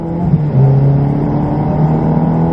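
Ferrari driven on track at Silverstone, engine pulling hard under acceleration with a rising revving tone and a gear change, steady and close throughout with no voices.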